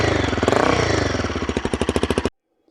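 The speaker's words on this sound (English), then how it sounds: "I'll just give it a normal rev." Royal Enfield Guerilla 450 single-cylinder engine, modified for flat track racing, held at a fast steady idle and then blipped in a series of evenly spaced throttle pulses that end abruptly in silence; loud and close, no talking.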